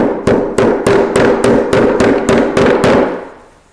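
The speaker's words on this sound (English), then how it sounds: "You actually just hammer them in like this." Eleven sharp, evenly paced hammer blows driving plastic screws into a tool drawer organizer ring out up close, each a loud crack with a short decay, the last one fading away.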